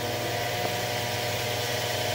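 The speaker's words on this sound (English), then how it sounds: "actually turn the motors on" A Grizzly G0704 milling machine converted to belt drive, its motor running steadily with a constant mid-to-high whine and hum, no change in pitch across the short stretch, heard alone at close range.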